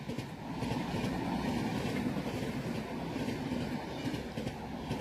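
The Gitanjali Express passenger train hauled by a WAG-7 electric locomotive rolls past with a steady rumbling, clattering wheel noise, moderately faint and continuous, with no talking.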